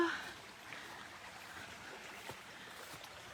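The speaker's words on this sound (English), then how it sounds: "There's a creek." Creek water flowing outdoors, heard as a steady, fairly quiet broadband wash with faint trickling texture and no distinct events, continuous throughout.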